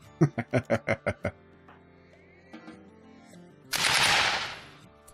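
Gunfire from the video game Rimworld as a colonist shoots a bear: seven rapid evenly spaced loud shots, a short pause with faint game sounds, then a longer noisy burst.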